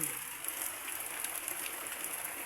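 Faint, soft patter of light rain falling on a surface, with scattered drops ticking through a quiet background.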